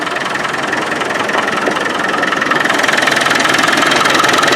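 A Land Rover 300Tdi diesel engine with a leaking injector pump idles steadily, a close, continuous knocking clatter that keeps running without letup.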